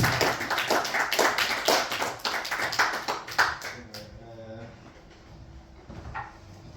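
Comedy club audience in Sheffield claps for a comedian walking on, a burst of dense applause that thins out after a few seconds into scattered claps and low murmur.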